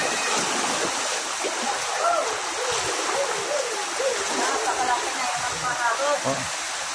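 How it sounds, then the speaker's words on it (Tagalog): Rushing floodwater from Typhoon Enteng in Burdeos, Quezon pours steadily in a loud, continuous broadband roar, with people talking faintly underneath throughout. "Napakalaki pong baha po."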